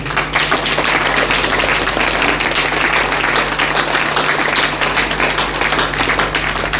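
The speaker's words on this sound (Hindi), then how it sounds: "डेंटो पेस्ट के लिए तो ये बोलना चाहूंगा कि आप जितनी तालियां बजा सको ना, उतनी बजा दो।" An audience at a health product presentation claps for Dento paste, giving loud, sustained, dense applause from a packed room, continuous throughout with a steady electrical hum underneath.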